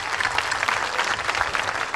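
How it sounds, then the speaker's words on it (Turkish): A theatre audience applauds for an orchestra at a live music show, dense steady clapping that fills the whole moment without pause. "Büyük alkışlar."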